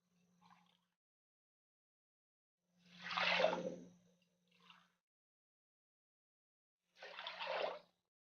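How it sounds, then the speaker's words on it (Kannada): Water poured from a large glass into a pressure cooker holding washed toor dal, in two separate splashy pours a few seconds apart, with small clinks of handling between and no talking. "ಈಗ ಒಂದು ಸ್ವಲ್ಪ ದೊಡ್ಡ ಗ್ಲಾಸಿಂದ 2 ಗ್ಲಾಸ್ ನೀರು ಹಾಕೋಣ."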